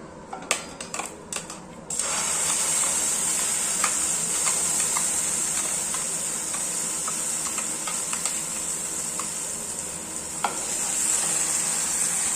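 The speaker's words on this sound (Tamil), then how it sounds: "இப்போ நம்ம இந்த வானலில் கலந்துக்கலாம்" Ground boiled carrot paste stirred in a hot pan for a carrot sweet, a steady close sizzle with spoon scrapes and clicks, starting after a few brief taps.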